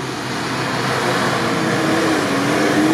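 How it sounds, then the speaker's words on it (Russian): A Lada Niva in rear-wheel drive gathers speed across loose sand off-road, its engine droning steadily and rising slightly in pitch, loud and close throughout with no voices. "На заднем приводе берет разгон по ненакопанному."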